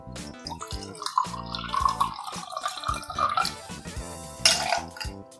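Lemonade pours into an Electric Blue Lemonade cocktail with blue curacao, lime juice and vodka, a close, trickling liquid splash with dripping and a brief clink of glass near the end.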